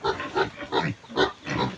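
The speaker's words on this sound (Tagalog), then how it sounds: "Nawala yung isang baboy." A pet pig that has escaped its pen on a farm grunts and oinks in a quick series of short, close, fairly loud snorts with brief pauses between them.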